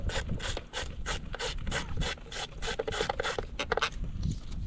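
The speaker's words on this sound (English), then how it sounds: "There's 2 bolts on the coil here. I'm going to loosen them both." Socket wrench loosening the two ignition coil bolts on a Ford Escape with an 8mm socket, a close, steady series of rapid ratcheting clicks and rasps running throughout with no talk.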